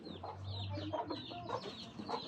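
Several chickens cluck nearby in a steady, overlapping chatter, with a low hum underneath at the start.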